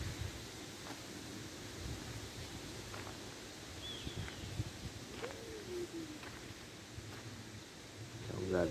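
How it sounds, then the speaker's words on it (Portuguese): Gusting wind sweeps through eucalyptus trees outdoors, a steady broad rustling roar that holds throughout and swells slightly at the end, with a few faint bird calls above it. "Veja só a ventania que está começando de novo."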